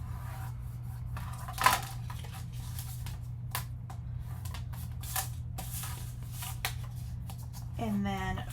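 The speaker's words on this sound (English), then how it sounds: "And then we can go ahead and fold and burnish." Scored cardstock being folded and burnished for a photo cube insert, soft close papery creases and rubbing strokes over a low steady hum, with a scattered rustle and a louder crinkle near the end.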